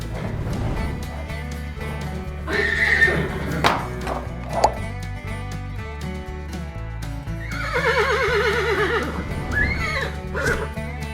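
Horses give loud, close whinnies, with hooves clip-clopping between the calls over a steady tonal background.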